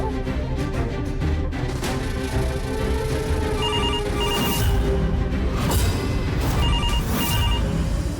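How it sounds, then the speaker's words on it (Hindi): A telephone rings in two short bursts of electronic trills, partly buried under loud, dense dramatic music that plays throughout. "पक्का ही फोन अर्नव जी के ऑफिस से ही होगा।"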